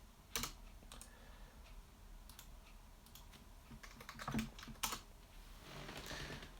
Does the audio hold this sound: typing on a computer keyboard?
yes